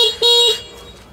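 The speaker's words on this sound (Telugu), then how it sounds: "హార్న్ సౌండ్ వినండి." A Franklin electric scooter's horn sounds two short, loud, close honks, the second slightly longer, each with a bright buzzing tone, then fades into quiet.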